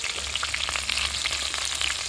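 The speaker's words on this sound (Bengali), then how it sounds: "মাছগুলো ভাজা হয়ে গেছে দেখো কত সুন্দর করে কড়া করে ভেজে নিয়েছি" Close, loud sizzling and crackling of rohu fish frying crisp in hot oil, a dense spattering hiss throughout.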